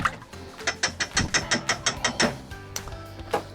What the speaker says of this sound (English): We're gonna give it another nice little whisking there